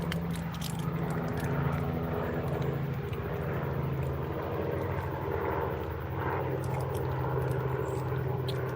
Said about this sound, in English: There's a helicopter going over as well.